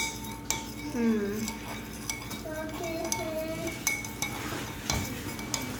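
A metal spoon stirs borax into water in a figure-eight motion for homemade slime, giving repeated light clinks and scrapes against the container at close range, with a low background hum.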